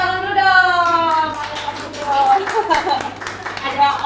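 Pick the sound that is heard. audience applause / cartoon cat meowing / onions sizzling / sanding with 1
audience applause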